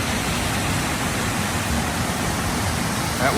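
A waterfall at a Disney water park pours in a steady, dense rush of white-noise water that holds even and fairly loud from start to finish, with no voices.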